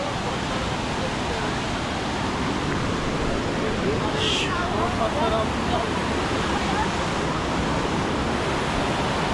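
Flowing water of a Turkish stream, a loud, steady rushing hiss close to the microphone, with a brief higher splash or gust in the middle and constant turbulent roar throughout.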